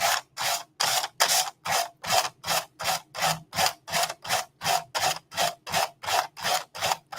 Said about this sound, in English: So I'm just going to go ahead and sand this off in a downward motion.